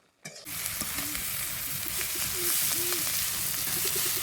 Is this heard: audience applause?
no